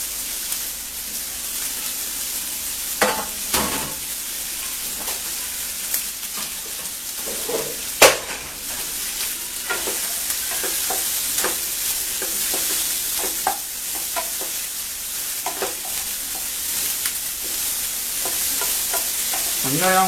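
Very finely cut onions fry for mutton keema pepper fry with a continuous bright sizzle, broken by frequent scraping stirs and an occasional louder clank of a spatula against the pan, no talk.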